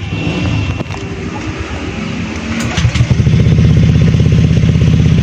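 A motorcycle with a double battery setup and diode starts up partway through and settles into a steady, close, loud running idle over a clattering background.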